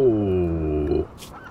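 A single duck quack from the video game RimWorld: one loud, drawn-out, raspy call lasting about a second that slides slightly downward in pitch, then fades into quiet.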